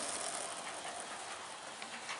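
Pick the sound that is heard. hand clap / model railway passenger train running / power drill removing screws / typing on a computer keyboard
model railway passenger train running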